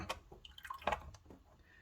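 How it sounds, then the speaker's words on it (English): Faint, irregular drips and small splashes of water falling from a kitchen tap pipe into a plastic container, a few distinct drops close by in a quiet room. "So just the last few bits of water coming down"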